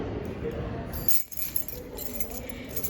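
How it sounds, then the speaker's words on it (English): A bunch of apartment keys jangles close by in a courtyard, a steady metallic rattle of light clinks over a low background rumble, briefly dipping mid-way before resuming. "Look, these are all my keys."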